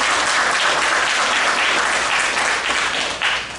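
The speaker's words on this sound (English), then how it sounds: "let's give the Junior Women's Club a round of applause" A pageant audience claps in sustained, dense applause that holds steady and fades slightly at the end.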